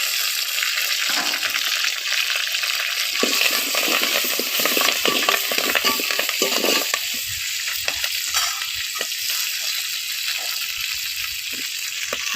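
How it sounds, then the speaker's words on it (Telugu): Onions, coriander and curry leaves frying in hot oil in a pot, a continuous crackling sizzle with stirring scrapes, loud and close, no talking. "గిన్నె పెట్టుకుని అందులో నూనె పోసుకోండి. ఇప్పుడు అందులో ఉల్లిగడ్డలు, కొత్తిమీర, కరివేపాకు వేసుకోండి."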